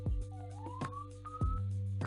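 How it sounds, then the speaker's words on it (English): A siren on a New York street drifts past with a rising, gliding wail, heard faintly at a distance beneath low thumps and handling noise in a quiet room, with no talking. "sorry, there's a big siren going by"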